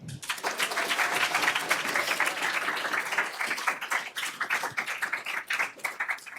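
An award ceremony audience applauds to welcome a speaker, with dense, sustained clapping from a large crowd that rises quickly and continues steadily throughout.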